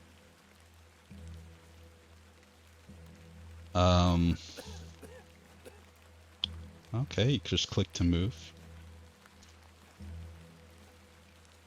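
Steady, faint rain patters through the background ambience of a rainy English setting in the point-and-click adventure game The Excavation of Hob's Barrow, running beneath a man's speech.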